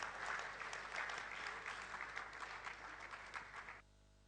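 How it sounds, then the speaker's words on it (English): An audience at a chartered accountants' gathering claps warmly to welcome a speaker to the stage, a thick, even wash of many hands that fades slightly and then cuts off abruptly near the end. "let's welcome C.S. Surya with a big round of applause"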